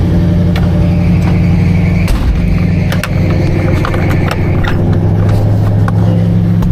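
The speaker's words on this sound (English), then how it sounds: "You can hear the motor working, and there we go. Now she's going on her own." A 1975 Buick LeSabre engine runs steadily on its own after starting, a loud, continuous low rumble close by with slight unevenness in the idle throughout.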